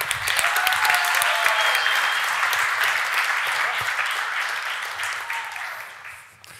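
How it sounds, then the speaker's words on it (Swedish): A crowd claps loudly and continuously after a startup pitch at a 24 Hour Business Camp, with scattered voices underneath before the applause tapers off at the end. "Säkert sätt att få en varm applåd"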